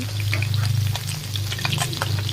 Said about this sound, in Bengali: মাছটা উল্টাই দিছি, এই যে দেখতে পাচ্ছেন কেমন ভাজা হয়েছে